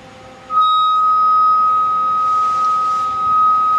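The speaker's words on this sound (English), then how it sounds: "What you hear is the 11 megahertz we're injecting. It's going in and it's beating against the beat frequency oscillator" A steady pure beat tone comes from a Bitx20a radio receiver with an injected 11 MHz signal, switching on abruptly and holding constant and fairly loud over faint background hiss.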